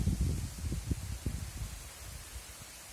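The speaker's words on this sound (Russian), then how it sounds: "О, ветер." Gusty wind blowing outdoors, a rough low rumble buffeting the microphone in irregular surges that ease off toward the end, with no voices.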